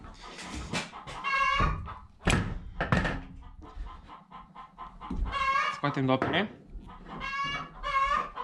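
A chicken clucks and calls repeatedly in the background of a workshop where a bicycle fork is taken apart, its bursts mixed with someone talking.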